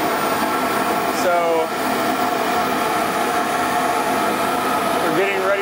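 New dust collector moving about 1,200 cubic feet per minute, a loud steady roar running at full suction while someone talks over it.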